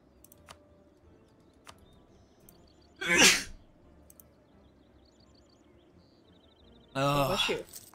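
Two sneezes, one near the middle and one at the end, each a sharp loud burst that stands out against a quiet room with faint ticks in the background.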